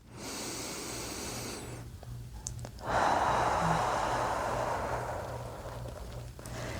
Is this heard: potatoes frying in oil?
no